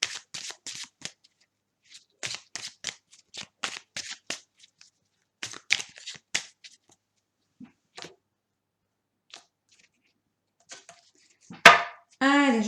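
Tarot cards being shuffled, a series of crisp riffling bursts in irregular clusters, fairly close and clear, thinning out toward the end before a short burst of voice.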